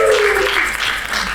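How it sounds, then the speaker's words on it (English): An audience applauds at a live gathering in a dense, steady burst of clapping heard up close. A brief vocal tone rises above it at the start. "Can we give her a round of applause?"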